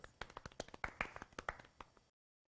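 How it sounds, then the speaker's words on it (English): A round of applause at a live broadcast event, a quick burst of separate, fairly close hand claps from a few people that stops abruptly, with a voice faintly present. "Yep, round of applause"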